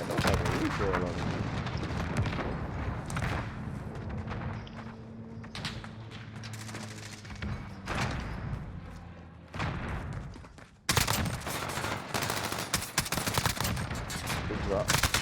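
Uzi gunfire in the video game Modern Warfare rattles in rapid, loud bursts, separated by short lulls and a brief near-silent gap before a final dense stretch of shooting.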